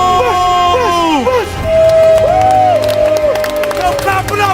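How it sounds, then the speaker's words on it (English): Crowd at an outdoor street workout session in New York City clapping and cheering, with whoops and shouted voices over dense, steady clapping; sustained pitched tones run through much of the din. "clap it up, everybody"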